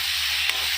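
Potatoes and ridge gourd frying in a pan, a loud steady sizzle with a brief stir near the middle, no talking.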